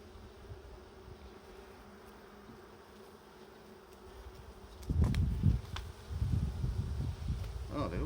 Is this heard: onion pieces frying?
no